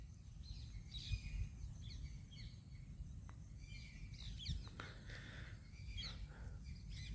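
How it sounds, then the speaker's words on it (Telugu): Birds call and chirp intermittently near paddy fields where egrets gather, scattered high calls over a steady outdoor rumble of wind or handling noise, with several chirps clustering around the middle and end. "కొన్ని పక్షులు సౌండ్స్."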